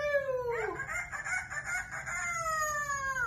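A parrot imitates a rooster's cock-a-doodle-doo in one clear, drawn-out crow, close and alone.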